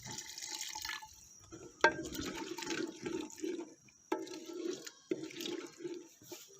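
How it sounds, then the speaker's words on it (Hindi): A little water trickles into turnip curry in a cooking pot, soft intermittent pouring and dripping with gentle sloshing in short bursts, quiet and close without talk. "तो अब इस टाइम पर इसके अंदर थोड़ा सा पानी शामिल कर देंगे"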